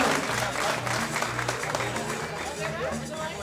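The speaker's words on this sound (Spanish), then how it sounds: "hay que dar un aplauso a todos los participantes" Audience applause for the contestants of a desserts-and-balconies contest in Arguayo, 2012: steady dense clapping throughout, with a low hum and some background murmur underneath.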